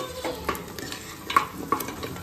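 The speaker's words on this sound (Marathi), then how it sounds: "हे व्यवस्थित मी परतून घेते आणि त्याचबरोबर यात मीठ आपल्याला घालायचं आहे" Spiced meat sautés in a pan for a non-veg dish, a spoon stirring and scraping with soft sizzling, knocking against the pan in irregular strokes close by.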